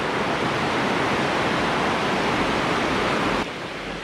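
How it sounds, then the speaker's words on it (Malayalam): Heavy rain pours steadily at an outdoor cooking site where biriyani is being made in many large copper pots, a dense, even hiss that stays loud throughout and drops slightly near the end. "നല്ല മഴ എപ്പോഴും പെയ്തുകൊണ്ടേയിരിക്കുകയാണ്"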